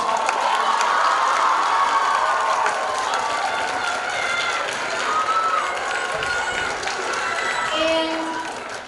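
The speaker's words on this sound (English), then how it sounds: "Give her a round of applause." An audience applauds and cheers after an opening-night school production of Willy Wonka, a loud sustained wash of clapping, whoops and children's shouts in a hall, with some voices among the crowd.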